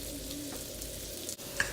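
Shrimp skewers cooking on a closed George Foreman grill give a steady, low sizzle and hiss throughout, quiet and unbroken, with one small click near the end and no talking.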